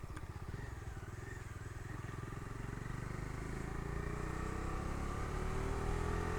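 A Dominar 250 motorcycle carrying a passenger hums steadily while riding, its engine tone slowly climbing as it gains speed, with a constant buzzing drone and no speech.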